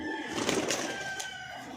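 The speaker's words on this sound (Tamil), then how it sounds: "இதோட அம்மா புறா." A pigeon in a loft gives soft, close cooing calls that rise and fall continuously, with faint rustling and a thin background tone, and no voices.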